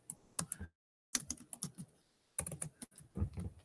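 Typing on a computer keyboard while entering details into a research citation form, with rapid bursts of clicking keystrokes separated by short pauses and a silent gap.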